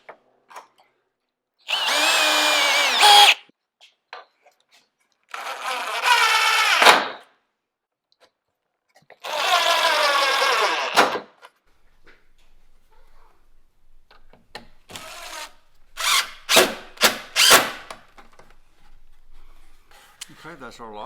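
A power drill pre-drills holes in wood on a deer blind build, three sharp whirring bursts of about one to two seconds each, close and loud, followed by quieter clicks and knocks of handling.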